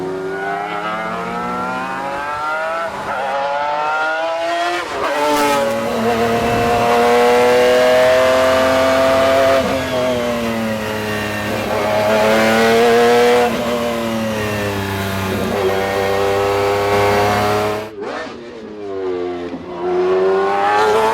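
McLaren F1 GTR race car, the 05R César Art Car at Le Mans Classic, its engine roaring loud and close through long sustained revs that rise and fall, cutting briefly before revving again.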